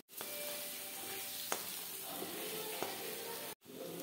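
Masala spices sauté in hot oil for misal, a steady close sizzle and hiss with a few sharp clicks of a spoon stirring the pan, briefly cut off near the end.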